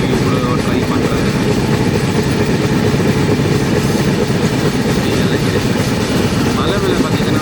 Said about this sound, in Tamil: ட்ரெயின் இப்போ ஸ்லோ ஆயிடுச்சு.